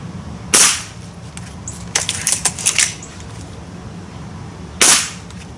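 A Gamo Swarm air rifle fires two sharp, loud cracks about four seconds apart, with a cluster of lighter mechanical clicks and clacks between them.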